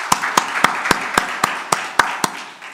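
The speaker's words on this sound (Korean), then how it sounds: "다시 한번 감사의 박수" At a judicial policy symposium on electronic criminal litigation, hands clap to thank the panelists: about ten sharp, evenly spaced claps in a steady beat, close and distinct against a quiet room.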